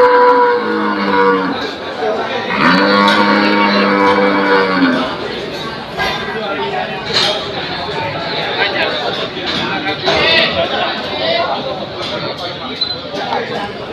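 Cattle moo loudly at a livestock market, a long harmonic bellow standing out early on, amid continuous crowd chatter and background noise throughout.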